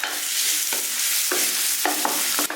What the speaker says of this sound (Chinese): 把切好的蒜末放到油锅里给它煸香